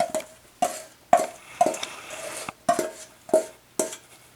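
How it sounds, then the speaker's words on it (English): Cookie dough being mixed by hand in a bowl, wet and dry ingredients combined, with a regular series of sharp utensil knocks against the bowl roughly every half second and softer scraping between them, close and clear with no talking. "We just want to mix this until we see no flour left."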